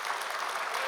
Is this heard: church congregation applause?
yes